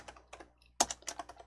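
Quick bursts of key presses on a computer keyboard as a file name is typed, a few soft clusters of clicks followed by a sharper, louder run of keystrokes, close and alone.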